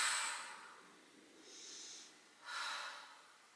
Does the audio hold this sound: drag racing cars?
no